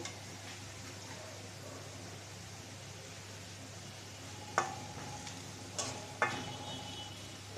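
Taro root fries in a pan with a faint, even hiss, with a few light scrapes and clicks near the end; quiet and close, without speech.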